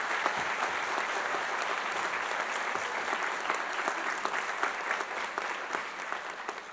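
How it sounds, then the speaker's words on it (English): Sustained applause for biomedical engineering graduates at a university master's hooding ceremony: dense, steady clapping from a large seated audience that fills the hall evenly for the whole stretch, with no talking over it. "Let's have another round of applause for our BME graduates."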